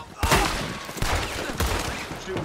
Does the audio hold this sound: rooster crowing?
no